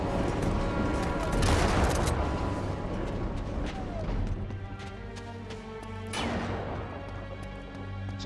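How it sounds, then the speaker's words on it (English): Gunfire in the video game Uncharted 3 during a sandstorm level, dense bursts and crashing impacts at first, then scattered shots over a lingering rumble. "Who's shooting at me? Who's shooting at me?"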